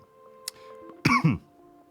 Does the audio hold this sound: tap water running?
no